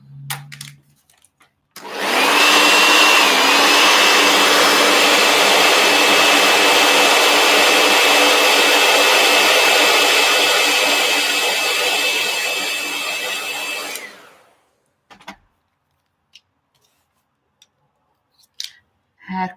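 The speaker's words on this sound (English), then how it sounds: "Heat gun." A heat gun blows steadily for about twelve seconds during a coloring session, a loud broadband whoosh with a faint tonal whine that starts abruptly, holds level, then cuts off into near silence.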